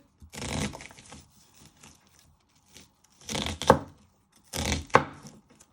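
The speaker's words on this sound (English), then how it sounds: "you want to chop half the way through, one way, turn it around, and just want to slice it" A knife chops through a peeled vegetable on a board for Indian starters in a few separated bursts of cutting, each with a sharp tap, close and fairly quiet.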